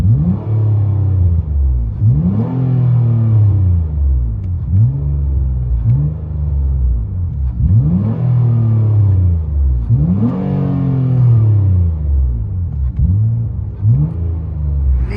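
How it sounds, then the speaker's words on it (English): Nissan Altima V6 with DC mufflers and resonator delete, heard from inside the car, revving repeatedly in steady swells, a deep, loud, close exhaust note with no talking. "Nissan Altima, DC mufflers, and resonator delete."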